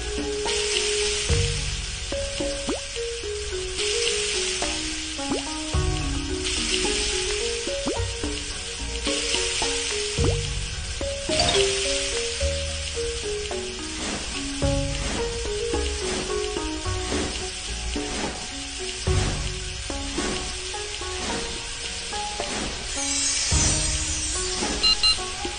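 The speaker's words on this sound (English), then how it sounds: "put those dumplings in the frying pan." Dumplings sizzle in an oiled frying pan in a children's Chinese-recipe cooking game, a steady frying hiss running through the whole stretch beneath bright, looping game music.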